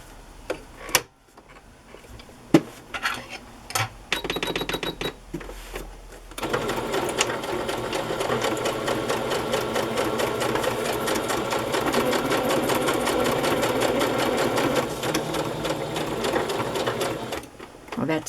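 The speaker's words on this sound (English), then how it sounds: "I'm going to sew across the top too" A sewing machine stitches across the top of a fabric pocket, a few short ticking starts and stops first, then a long steady rapid mechanical whir, close and loud, with speech heard around it.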